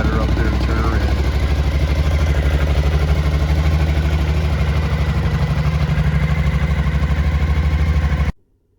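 A Suzuki V-Strom motorcycle engine runs steadily on the road, a loud, continuous throbbing drone with wind noise, heard close from the rider's position until it cuts off abruptly near the end.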